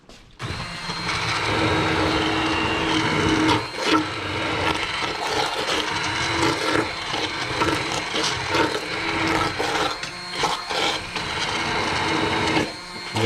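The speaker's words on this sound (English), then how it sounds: "So let's take our blender, stick blender, turn it on." A stick blender whirs steadily through cherry tomatoes for homemade passata, a loud continuous motor buzz with a few brief dips in load over about thirteen seconds, heard alone.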